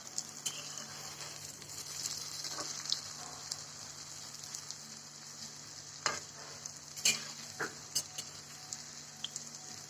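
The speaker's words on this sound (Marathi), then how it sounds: "आता ह्या चांगलं तळून घ्यायचं" Spinach vadis fry in a small amount of hot oil, a faint, steady sizzle with scattered pops and a few louder spatters, no speech.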